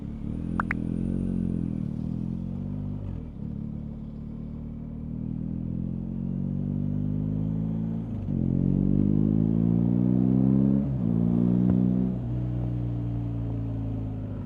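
Raw motorcycle engine sound captured on a Zoom H1n recorder, a steady close mid-pitched rumble with rising and falling revs as gears shift, continuous for the whole stretch with no talk.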